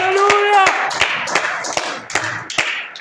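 A church congregation claps in spaced, rhythmic hand strikes following a voice, the claps sharp and fairly close.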